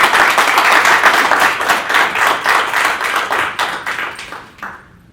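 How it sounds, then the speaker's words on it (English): An audience at a school board meeting claps for the board members, sustained applause from many hands that starts full and thins out over several seconds. "let's give the board members a round of applause"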